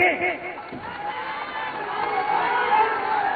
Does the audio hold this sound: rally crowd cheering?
yes